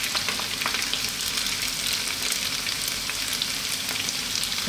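Beef with onion and garlic fries in a pan, a dense, steady hiss of sizzling fat that stays even and close from start to finish, with no voices.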